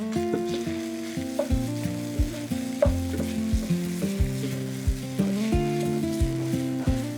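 Meat for a German Haschee sauce fries in a pan while being stirred, with a continuous sizzle and repeated scraping strokes, and tonal, music-like notes running underneath.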